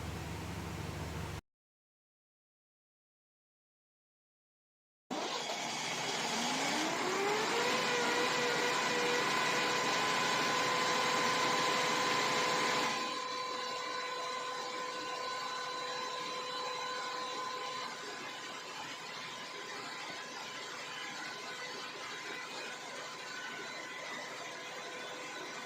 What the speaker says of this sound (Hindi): उसके बाद हमने इंजन स्टार्ट कर लिया है और इंजन स्मूथली रन कर रहा है